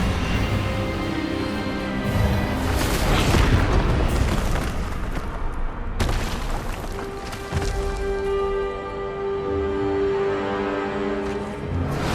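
Expelliarmus spell blast during a Hogwarts Legacy duel, a loud booming burst of magic over sustained dramatic game audio, dense and continuous, with no clear talking.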